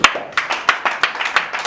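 Scattered, fairly light handclaps from a small audience at a community anti-poverty association gathering, about eight claps with uneven rhythm over a quiet room.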